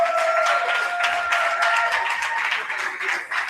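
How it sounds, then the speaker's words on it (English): An audience claps steadily at the Young Gifted & Black Entrepreneurial Awards Gala 2026, a dense wash of applause with a sustained tonal sound running over it. "Let's give Carl a round of applause."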